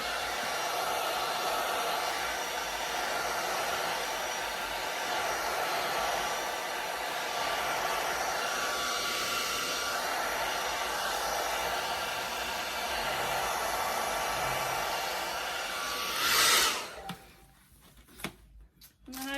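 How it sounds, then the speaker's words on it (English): A hair dryer on the cool setting blows steadily for a long stretch, loud and close, then cuts off near the end, leaving a few faint handling noises. "You can use a blow dryer to just on the cool setting."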